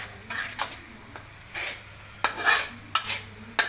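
Sambal with petai beans sizzling in a pan with intermittent scraping strokes of a spoon stirring it, close and fairly quiet.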